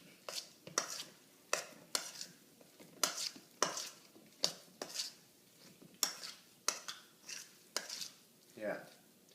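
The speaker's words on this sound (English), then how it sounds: "mix that in a little bit more" Chickpea slider mixture with nutritional yeast stirred in a bowl, a series of sharp scraping clinks and strokes in an irregular rhythm, close and fairly quiet, with no talking.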